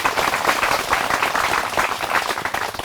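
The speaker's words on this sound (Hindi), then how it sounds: "मैं चाहूँगा एक बार जोरदार तालियां बजाकर स्वागत किया जाए हमारे विशेषज्ञों का" A hall audience gives a sustained round of loud, dense clapping to welcome agricultural experts from the central subtropical horticulture institute at a Lucknow farmers' forum, steady throughout with no talk over it.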